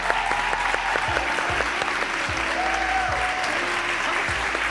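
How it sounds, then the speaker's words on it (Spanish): An audience gives a loud, sustained round of applause for guest actress Cristina Medina at a talk-show interview. The clapping is steady and dense from start to finish. "Pido, por favor, un fortísimo aplauso para Cristina Medina."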